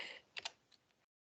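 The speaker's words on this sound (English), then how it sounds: "We haven't finished typing here" A few light, quick taps on a computer keyboard, close and quiet, with soft background noise that cuts to silence at the end.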